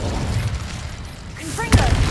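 A fire spell cast in the Hogwarts Legacy video game bursts out with a short, sharp whoosh near the end, following a low rumbling game backdrop and a spoken incantation.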